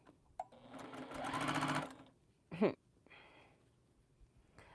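A sewing machine whirs in a quick burst of about a second, joining two fabric pieces at a quilting session, followed by a short clunk and quiet handling sounds.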